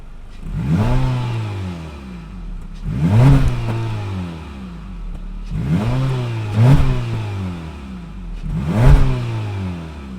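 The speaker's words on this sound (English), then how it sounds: "that was of course the sound of the all-new 2-liter 4-cylinder sold by Honda for this all-new 2023 HR-V" Four repeated revs from the 2-liter 4-cylinder engine of a 2023 Honda HR-V EX-L, each rising sharply then falling back to idle, evenly spaced and close, with no talking.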